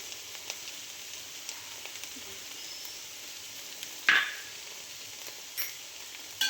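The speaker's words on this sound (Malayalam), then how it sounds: "ഉപ്പിട്ടിട്ട് നന്നായിട്ട് ഇളക്കി" Salted okra frying in a pan for a Kerala-style mezhukkupuratti, giving a faint continuous sizzle with a few light stirring scrapes, one sharper clack near the middle.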